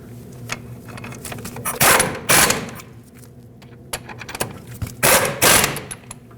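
Ratchet tightening lug bolts on the front hub of a 2009–2010 Dodge Ram, heard as close mechanical clicking bursts in short runs with pauses between them, no talking.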